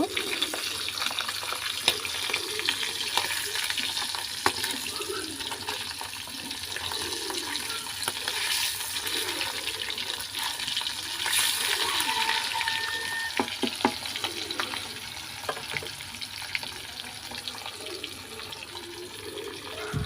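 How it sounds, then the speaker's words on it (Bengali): Pieces of a large catla fish fry in oil over a clay stove, giving a continuous crackling sizzle with soft stirring and clinking and no talk. "মাছগুলো এখন আমি সুন্দর করে ভেজে নেব"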